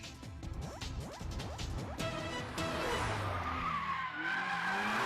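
A heavy Nissan Skyline R32 racing downhill in the Initial D anime, its tires squealing and skidding in repeated swooping bursts over a roaring engine, then a long loud slide.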